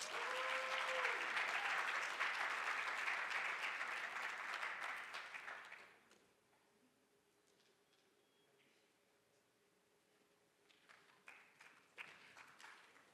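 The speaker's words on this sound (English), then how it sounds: "Yes, applause." A convocation and awards ceremony audience applauds for an award recipient, a broad wash of clapping that fades after several seconds into a quiet hall with a few scattered late claps.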